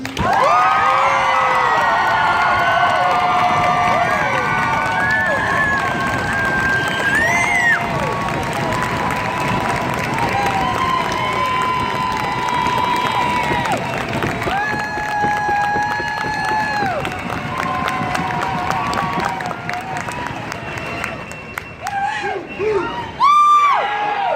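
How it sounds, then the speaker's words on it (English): Loud, sustained clapping, cheering and whooping from families and friends at an Army basic training graduation ceremony, a dense crowd roar lasting throughout with shouts rising and falling. "please join me in a loud round of applause for our nation's newest Army soldiers"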